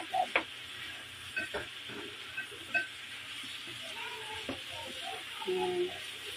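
Chayote and pork stirred in a frying pan, soft sizzling beneath intermittent spoon scrapes and clinks against the pan, with a few brief faint background sounds.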